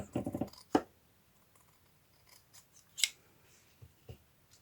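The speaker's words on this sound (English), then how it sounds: "Okay, I'm going to cut this piece off." Craft scissors snip through a paper or card piece: a rapid cluster of close cuts at the start, then a sharper single snip, with a few lighter isolated snips and handling clicks spaced through an otherwise quiet stretch.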